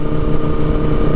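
A motorcycle engine running steadily at close range while riding, with a continuous mid-pitched drone and slight rumble and no pauses.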